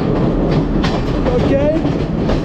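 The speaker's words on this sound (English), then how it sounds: "The Sri Lankan train." A Sri Lankan train running on its rails, a loud, close, continuous rumble and rattle of carriages with faint rhythmic clatter and a brief squeal, heard from on board.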